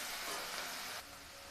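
Snake gourd frying in a hot pan for a simple home-cooked bhaji, giving a steady broadband sizzle that drops a little in level partway through.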